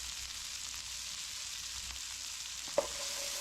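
Leftover vegetables, including green onion, being stirred into a hot cooking pan, with a continuous soft sizzle, faint scraping, and one sharp clink of the utensil near the end.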